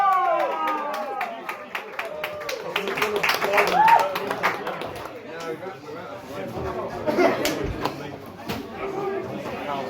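Audience at a stand-up comedy show in Canterbury clapping in a dense patter of many hands with scattered chatter mixed in, an irregular stream of sharp claps throughout.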